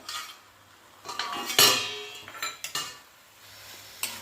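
Metal lid lifted off a pan of village-style okra curry: soft clinks and scrapes of metal on metal, with one sharper clank near the middle and a few lighter knocks after, close and fairly quiet.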